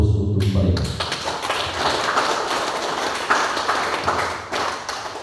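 An audience at a school student council (OSIS) showcase applauds. A voice comes first, then a sustained wash of clapping from many hands runs loud and steady to the end.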